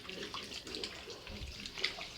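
Water pours into a pot of palm fruit to extract the juice for banga stew, a soft continuous splashing and trickling heard fairly quietly at close range.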